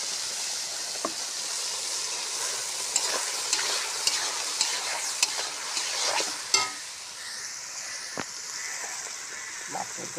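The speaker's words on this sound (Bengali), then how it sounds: "মাছের জন্য মশলা ভাজতেছি" Spice paste of chilli and onion frying for rui fish in a pan, a steady sizzle with repeated stirring clacks and scrapes, a burst of steam hiss near the end.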